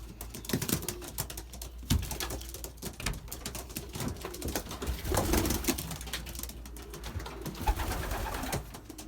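Sick Belgian racing pigeon cooing near an open window, soft low coos mixed with fluttering, tapping and scratching sounds close by.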